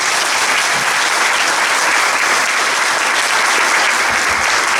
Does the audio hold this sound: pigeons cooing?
no